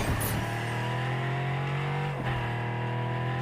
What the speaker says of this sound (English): The engine sounds nasty.